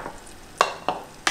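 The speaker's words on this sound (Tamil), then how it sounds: "இப்போ இது நல்லா வேகட்டும் இந்த வெங்காயம்" Onions cooking in a pan, a soft sizzle broken by three sharp clinks or scrapes of a utensil against the pan at close range, no talking.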